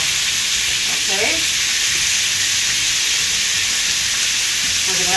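Chicken pieces frying in hot oil in a heated pan, a loud, dense continuous sizzle with crackling spits and a few brief stirring sounds, close up and steady from start to finish.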